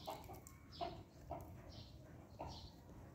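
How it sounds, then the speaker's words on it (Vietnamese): A rooster clucks in several short, soft bursts spaced irregularly over a few seconds, faint and somewhat distant against a quiet background with no talking. "À, thấy gà trống à."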